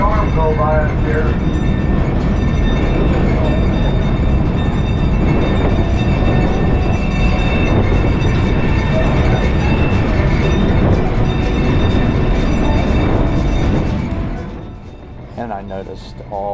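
A tourist train at the Terry Bison Ranch rumbles steadily along the tracks at close range, loud and continuous for several seconds before quieting near the end.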